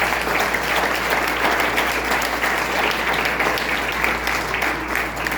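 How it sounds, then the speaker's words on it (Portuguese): A church congregation applauding together, a dense, steady wash of clapping from many hands that fills the space evenly and continuously, with no pauses and no individual voices standing out. "Você pode aplaudir?"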